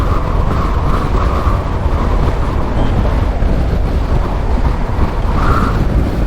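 Wind blows hard outdoors on a mountain road in Himachal Pradesh between Shimla and Rampur, heard as a loud, constant rumbling roar buffeting the microphone, steady throughout with no speech.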